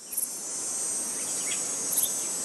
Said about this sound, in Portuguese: O som das cigarras se intensifica, assim como os sons de grilos e gafanhotos.